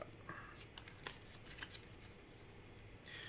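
Gloomhaven board game cards being shuffled by hand: a string of quick riffling and snapping bursts, close but soft, with some movement noise between them.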